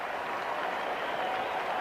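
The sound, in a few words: cricket crowd applauding at the SCG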